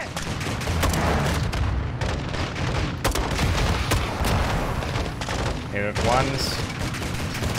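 Light machine gun fire in the Modern Warfare 2 campaign, loud rapid bursts and sharp cracks of gunfire filling the scene, with a voice speaking briefly over the shooting.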